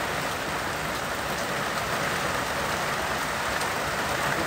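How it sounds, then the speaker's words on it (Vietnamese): Steady rain falling on a cold day in California, a dense even hiss that continues without a break and with no voices. "Bạn có nghe tiếng mưa rơi không?"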